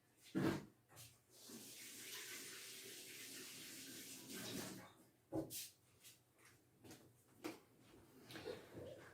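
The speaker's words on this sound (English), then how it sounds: "Just give it a little rinse, okay, to make sure it's all nice and clean." A kitchen tap runs as a pastry brush is rinsed while making scones. A soft, faint stream of water flows for a few seconds amid quiet handling knocks and clatter.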